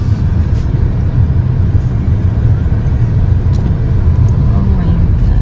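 Cars stuck in a traffic jam make a continuous, even low rumble of engines close by, with faint scattered clicks and knocks above it and no clear single vehicle standing out.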